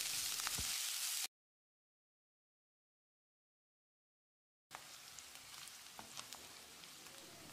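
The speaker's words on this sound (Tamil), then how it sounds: "வெங்காயத்தை கண்ணாடி பதத்துக்கு வதக்கிடலாம்." Chopped onions sizzle and crackle in a hot pan while being sautéed for brinjal kothsu, with a short silent gap partway through before the frying resumes at a steady level.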